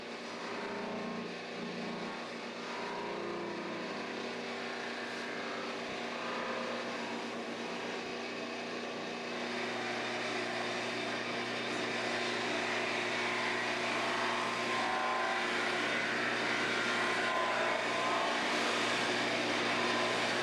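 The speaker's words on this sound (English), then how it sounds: "let me show you how to do it on the buffing wheel" A buffing wheel polishes the lacquer finish of a guitar in a luthier's shop, giving a steady, loud motor whir with a rushing abrasive hiss that holds nearly unchanged throughout, with no talking.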